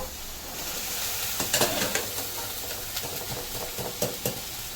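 Boiled white chana, black chana and rajma stirred into a hot pan produce a constant sizzle with repeated soft scraping and tapping from stirring.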